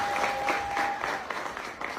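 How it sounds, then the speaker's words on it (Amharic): An audience claps steadily at a talk, a dense patter of applause at moderate level throughout. "እስኪ ጭብጨባ"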